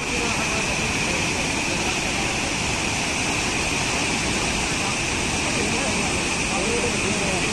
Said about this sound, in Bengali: আর এত জোরে জলটা পড়ছে যে আমার গায়ের মধ্যে একদম ছিটে আসছে